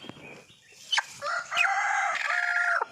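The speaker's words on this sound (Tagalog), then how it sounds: "Manok ko yan." A rooster crows once, close and loud, a long strained cock-a-doodle-doo rising then held before cutting off, with faint clucks beforehand.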